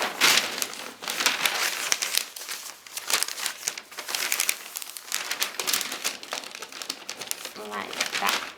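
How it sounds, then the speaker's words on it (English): Wrapping paper crinkles and crumples continuously as it is folded around a Christmas gift box. The rustling is close and busy, with brief pauses between folds and a voice talking in places. "Then twist it round and we'll fold over the edges again."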